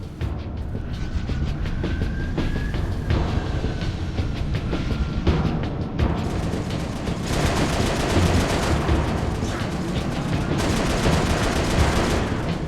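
Sustained rapid turret gunfire in Halo: Reach, a dense, loud continuous rattle of automatic shots with mechanical clatter, intensifying in the second half with no voices.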